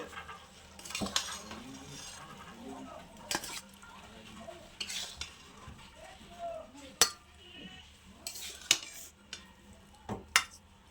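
Cooked small fish are scooped from a pan into a bowl, with scattered metal spoon scrapes and clinks against cookware, soft and close, between quieter stirring sounds.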